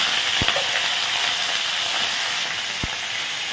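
Pointed gourd (potol) fries in a pan with a steady, close hiss of sizzling oil, broken by a couple of sharp pops or clicks.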